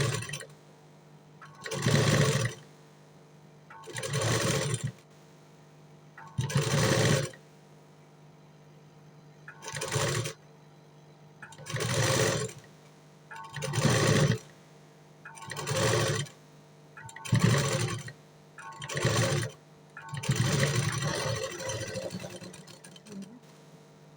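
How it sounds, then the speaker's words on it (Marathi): A sewing machine stitches lace onto the back neck of a blouse in repeated short bursts of whirring motor and needle, each lasting a second or two, with brief quiet gaps between them. "आता दुसऱ्या साईडून पण मी शिलाई मारणार आहे."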